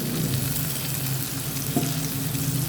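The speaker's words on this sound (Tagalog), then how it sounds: "Fried lang po ng konti." Beef strips frying in a pan, a steady dense sizzle with faint stirring clatter, close and continuous.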